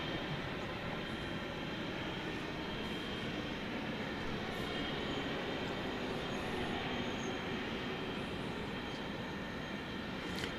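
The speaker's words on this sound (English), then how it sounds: "It's Airbus A321, Flight 1456 from Salt Lake." An Airbus A321 airliner at DFW Airport, heard as a continuous loud broadband jet roar that holds steady throughout without talk.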